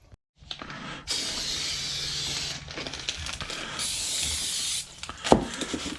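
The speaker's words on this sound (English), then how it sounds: "Before you install the brake rotor, you want to clean it off with some brake cleaner, just to make sure all the greases are off of it." Brake cleaner hisses steadily from an aerosol can onto a new brake rotor on a Ford 8.8 axle, a close continuous spray with brief pauses and a short clunk near the end.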